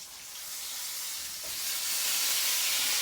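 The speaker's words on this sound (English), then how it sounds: "Now the cabbage is frying on down" Cabbage frying in a pan alongside sausage gives a steady, close sizzle and hiss that swells slightly toward the end, with no voices.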